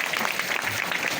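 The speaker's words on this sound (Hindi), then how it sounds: "जोरदार ताली" A brief burst of loud, dense clapping rises from the audience at a Uttar Pradesh police training passing out parade in Moradabad. It lasts just over a second, steady and crowded.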